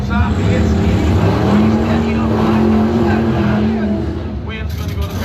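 Drag racing cars launch at a Bowtie race, a loud roaring engine rising in pitch under an announcer's talk, then fading toward the end.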